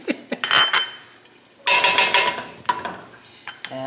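A spoon stirs freshly minced New England garlic into low-carb French onion soup in a pot, with two bursts of scraping and clinking separated by a quiet pause.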